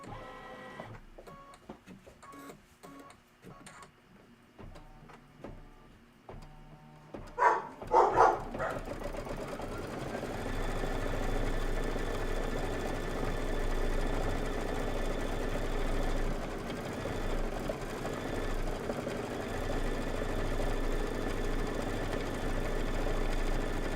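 Embroidery sewing machine stitching a Kimberbell tweetheart pillow design, a steady mechanical whir running continuously after a few brief clicks and knocks at the start.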